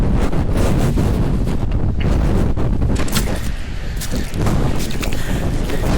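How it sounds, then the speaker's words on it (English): Strong wind roars across a mountain summit in New Hampshire, buffeting the microphone with loud, continuous, gusting rumble and no voices. "Wind is getting brutal."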